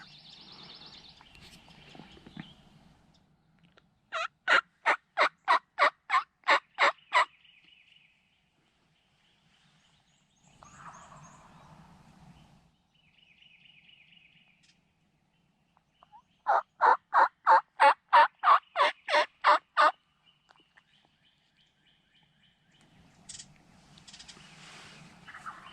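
Wild turkeys gobble during a South Carolina turkey hunt, two clear bursts of rapid rattling gobbles from a distance, with quiet stretches and faint bird calls between them.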